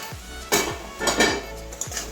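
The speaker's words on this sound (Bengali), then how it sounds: "এবারে ঢাকনাটা খুলছি" Metal lid lifted off a cooking pot of frying Malabar spinach with lentil dumplings, giving several sharp clanks and clinks of metal on metal in quick succession, close and fairly loud, with no speech.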